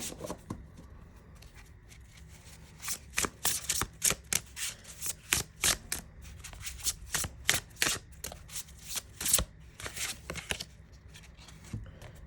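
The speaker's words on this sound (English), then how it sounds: "Oh, it shuffles really easily." A tarot deck of cards is shuffled close up, producing quick repeated riffling and flicking bursts in an irregular rhythm, fairly crisp and alone with no talking.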